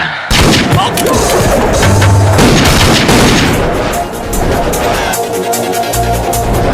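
Gunfire in a Kannada action movie: loud, dense volleys of shots and heavy booms crackle in rapid succession, then ease into a lower rumble.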